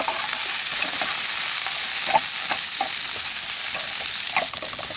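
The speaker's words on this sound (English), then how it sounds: "The onions are picking up that char from the sausage." Sausage and onions frying in a pan on a hot camp stove, a steady close sizzle with occasional scrapes and stirs, with no talking.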